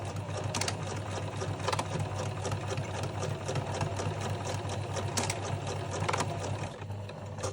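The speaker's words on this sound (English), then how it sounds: "I'm going to stitch really close to this metal, which is why I'm using an adjustable zipper foot" A sewing machine fitted with an adjustable zipper foot stitches fabric along a metal zip, a steady rapid mechanical whirr with regular ticking and a low motor hum, heard close with no speech.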